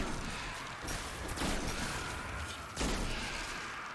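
Gunfire from a shooter video game streamed on xCloud on Xbox One, a steady dense wash of shots with two louder bursts, continuous and fairly loud with no talking.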